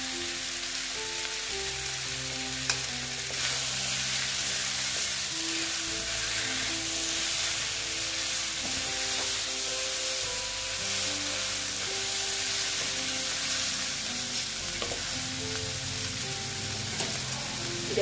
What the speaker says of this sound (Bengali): এবার আমি এঁচড়গুলো দিয়ে দিলাম। দিয়ে এবার আমি ভালো মতন কষিয়ে নেব।